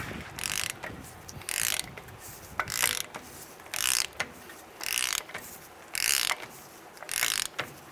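A lug nut being tightened down to seat the front inner wheel bearings on a 1992-1996 Ford F-150, heard as repeated bursts of ratchet clicking, about seven short runs separated by brief pauses, close and fairly loud.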